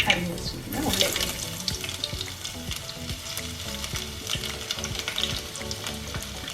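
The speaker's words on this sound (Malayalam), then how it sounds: "അരിഞ്ഞ് വെച്ചിരിക്കുന്ന ഉള്ളി ഇട്ട്" Chopped onions sizzle and fry in hot oil with popped mustard seeds in a pan, a steady close crackle broken by frequent stirring clinks and scrapes, with no voice.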